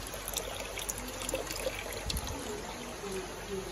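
Water trickles and pours steadily into a fish farm pond, a continuous low, faint wash with a brief louder splash partway through and no talking.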